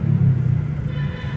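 Heavy stop-and-go road traffic on EDSA near Mega Mall, a steady low engine rumble heard from inside a vehicle, droning evenly with no voices.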